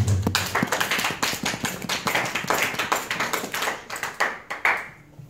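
A church congregation applauds during a worship service, steady close rhythmic clapping that carries on throughout and thins slightly toward the end.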